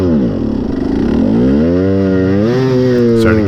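An adult dirt bike that is overheating in a muddy, greasy January motocross race at Russell Creek, Greensburg, Kentucky, its engine revving up and down with wavering pitch, loud and close throughout with no voices.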